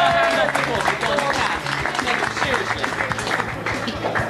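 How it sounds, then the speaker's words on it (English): Round of applause from a crowd at a local TV event, dense clapping that swells at first and then holds steady, with some voices and chatter underneath. "So a round of applause for Liz Rock from Salisbury."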